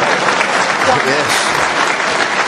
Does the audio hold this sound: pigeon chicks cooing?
no